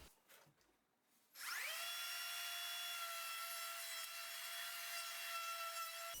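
A wood router spinning up with a sharp rising whine after a few faint knocks, then holding a steady, bright, close motor tone while it cuts a housing joint in wood.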